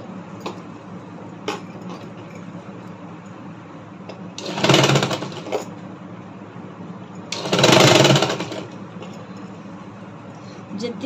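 A sewing machine stitches fabric for a double katori blouse with an S strip, in two short, loud bursts of rapid mechanical whirring separated by quieter gaps with faint background voice.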